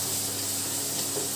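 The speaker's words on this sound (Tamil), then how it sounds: "வெங்காயம் நல்லா வதக்கி எடுத்துடலாம்" Onions sauté in a pan for a village-style goat leg curry, giving a steady, even sizzle that holds without a break from start to finish.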